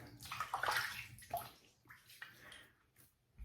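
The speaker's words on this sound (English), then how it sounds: "So I'm gonna wet the face and we'll get started." Hands splash water onto a face before a wet shave, with quiet close sloshing and dripping in short bursts and a few pauses.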